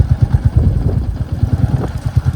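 A motorcycle engine idles nearby at a fair in the Rann of Kutch. Its low, steady putter pulses evenly for a couple of seconds with no other sound over it.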